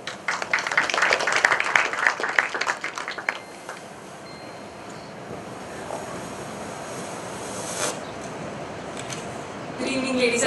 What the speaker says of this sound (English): So, with a round of applause, I would now like to invite on stage Ms.